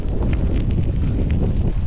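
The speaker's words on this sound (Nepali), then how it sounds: "हावा चल्यो कि अति अझै चलिरहेछ हो" Strong wind buffets outdoors in a Romanian village, a continuous loud low roar and rumble against the microphone with no pauses.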